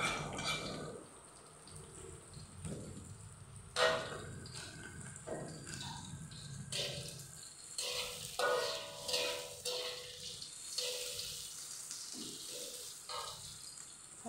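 Chilies and anchovies stir-frying in a pan for a home-cooked village-style Indonesian vegetable dish: steady close sizzle with scraping and clattering stirring strokes throughout, no talking.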